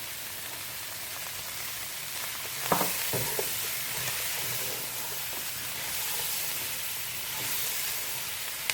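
White parts of chopped spring onion fry for chilli chicken in a hot pan with a steady, close, hissing sizzle. A few clinks of a utensil sound early on, with no voices.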